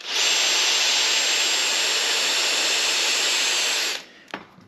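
A powered tool drives a thread tap through a bolt hole in the front hub of a 1966 Valiant Safari wagon, giving a loud, steady, close whine for about four seconds before it stops abruptly, followed by a couple of faint knocks.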